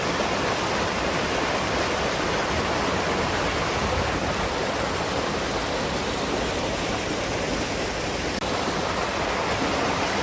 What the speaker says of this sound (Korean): 자연 폭포, 자연 폭포. 자연 계곡.